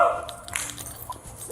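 A police K9 dog barks and yips in short, sharp bursts close by, with a whimpering edge and faint background noise.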